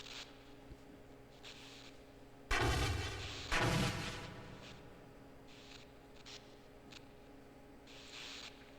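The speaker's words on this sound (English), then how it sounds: "And we'll just wait for them to explode." Two heavy explosions in the video game Half-Life, a pair of loud booms about a second apart with rumbling tails, set against quiet game ambience.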